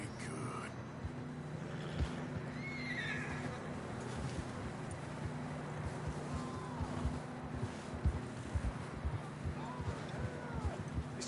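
Horses in Red Dead Redemption 2 neigh and whinny several times amid a steady beat of hooves, set against a low engine-like drone and game ambience.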